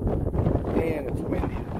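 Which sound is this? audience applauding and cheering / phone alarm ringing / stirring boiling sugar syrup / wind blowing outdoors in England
wind blowing outdoors in England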